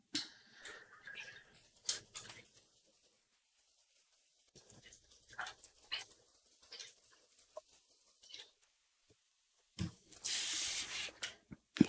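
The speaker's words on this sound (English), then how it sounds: "spraying a little bit more water there" A burst of sharp, hissy water spray from a spray bottle near the end, following quiet handling noises and faint clicks; a single sustained spritz lasting about a second and a half, during acrylic painting.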